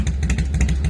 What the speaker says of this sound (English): and now I started up the Harley. She's purring for the summer.